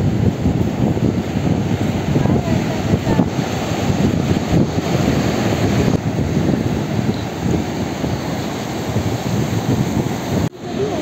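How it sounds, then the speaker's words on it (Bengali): Ocean waves roar along Puri beach in a loud, continuous wash of surf, with heavy wind buffeting the microphone throughout. "সমুদ্রের গর্জনটা শুনুন।"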